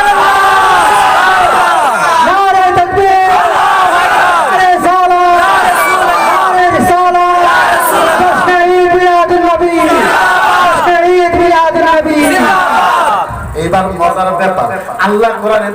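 A large crowd at a Milad-un-Nabi religious sermon chants loud call-and-response slogans. Regular bursts of massed voices repeat in a steady rhythm, close and loud, and the chanting fades into mixed murmuring near the end.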